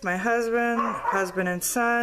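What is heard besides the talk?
dogs barking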